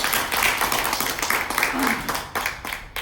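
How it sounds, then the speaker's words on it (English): An audience gives a round of clapping, a dense, fairly loud patter of many hands with voices mixed in, fading unevenly toward the end. "a big clap for all of you"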